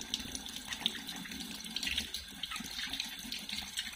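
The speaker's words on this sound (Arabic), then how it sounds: "يغسل جيدا" Running tap water pouring over a kiwano fruit as it is washed, a steady hissing splash at moderate level, continuous and uninterrupted with no voices.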